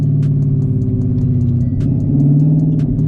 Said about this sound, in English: floor the car, let it build boost, and when I let go of the button, it shoots the car